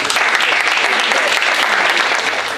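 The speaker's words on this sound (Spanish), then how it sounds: "Lo recibimos con un fuerte aplauso." Loud, steady applause from an audience welcoming a speaker at a lecture hosted by the Colegio de Ingenieros del Perú, dense clapping sustained evenly throughout.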